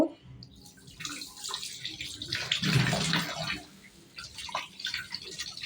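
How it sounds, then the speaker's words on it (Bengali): Fresh fish pieces are rinsed one by one under a running tap, with water splashing and trickling close by in uneven surges that peak midway. "একটা একটা করে আমি এরকম করে ধুয়ে বোর্ডে নিয়ে নিব"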